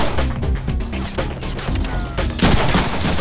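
Heavy gunfire from the Deadpool video game erupts in loud, dense bursts of rapid shots and crashing impacts that overlap throughout, with a brief lull before a fresh volley near the end.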